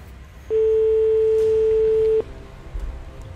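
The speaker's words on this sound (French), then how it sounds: "Deuxième sonnerie." A single sustained electronic telephone ring tone, steady and clear, lasting under two seconds against a quiet background.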